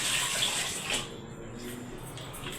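Cold water poured into a bowl during homemade desi ghee preparation, a steady close splashing rush that fades slightly midway and continues alone without talk.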